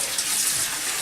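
Cold tap water runs steadily over seitan gluten dough being washed, a continuous close hissing splash with no pauses.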